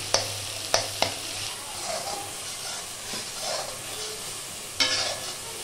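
Ground onion and garlic paste sautés in a pan with a low sizzle, while a spoon knocks and scrapes against the pan, giving a few sharp clacks near the start and another burst near the end.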